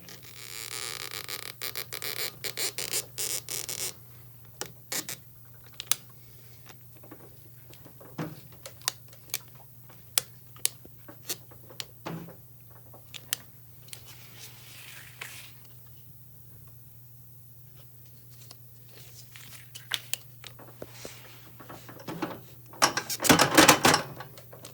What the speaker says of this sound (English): So we're going to try and release this ratchet strap now without losing our air connection.